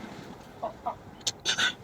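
Hill-breed chickens clucking nearby, a few short calls followed by a louder burst of clucks, with no talking.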